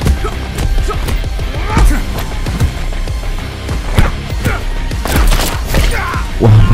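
Sharp pistol shots in the game Acts of Blood crack in quick irregular succession among thuds and impacts, loud and close.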